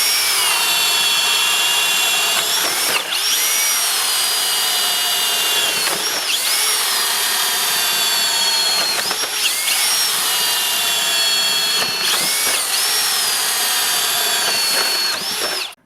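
Makita 40V and Milwaukee M18 Super Hawg right angle drills bore through wood with spade bits, a loud, steady high-pitched whine in repeated runs of about three seconds, each broken by a brief dip as the bit finishes a hole.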